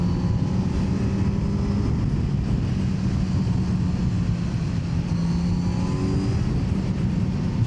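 A 2025 Kawasaki Z900 four-cylinder motorcycle engine rumbles loud and close at low revs, a steady throaty drone with rising and falling revving pulses throughout, no voices over it.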